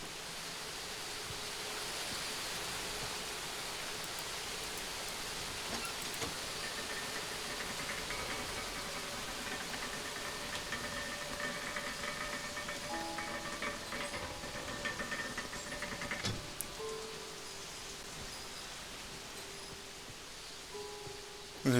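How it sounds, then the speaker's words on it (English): A video-game waterfall in Obduction, powering an elevator, rushes as a constant, even wash of noise with no breaks, steady and moderately loud throughout. "Look at this, waterfall powers that elevator there."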